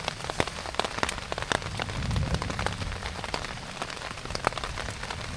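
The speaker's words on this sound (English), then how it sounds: "sat under here listening to the rain." Steady rain patters on a surface nearby, with sharp individual drops tapping irregularly over a continuous wash of falling water.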